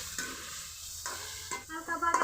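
Crab pieces stirred in hot oil with onion, tomato and salt, giving a steady sizzle with scraping stir strokes that rise in short bursts toward the end; no voices.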